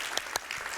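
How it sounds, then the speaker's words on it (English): Audience applause fills a Hall of Fame awards event, a dense wash of clapping hands with a couple of sharper claps standing out, steady and fairly loud. "Another round of applause for our two newest inductees"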